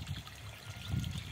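Water trickles and streams steadily into a tub in a village setting, a soft continuous flow with slight surges and no voices.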